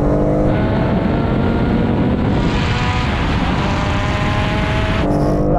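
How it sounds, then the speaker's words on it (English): A Nissan S15 Silvia and a BMW M3 Competition run a rolling drag race in fourth gear from about 60 mph, one loud steady engine roar with harmonic whine that holds throughout and shifts near the end. "Now we're going to have a rolling race from 60 miles an hour in fourth gear."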